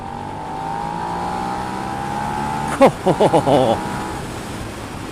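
A Suzuki SV650 V-twin motorcycle engine hums steadily, then blips the throttle in a quick series of sharp revs near the end, rising and falling in pitch.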